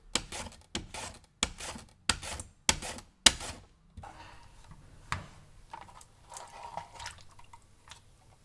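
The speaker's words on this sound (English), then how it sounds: "I use this slicer because it can slice the potato extremely thin" A potato slicer cuts raw potatoes into very thin slices, six sharp rhythmic swipes about half a second apart, close and crisp, then softer scattered slicing scrapes.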